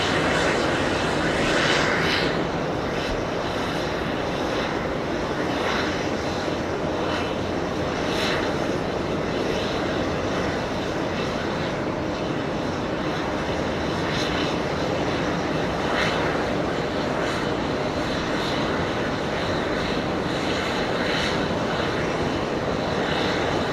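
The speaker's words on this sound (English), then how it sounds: "Delta 767 and arrival on 13 left" A Delta Boeing 767 arriving on runway 13 left at JFK, flying in from Atlanta, produces a steady, loud jet engine roar that fills the whole stretch with little change.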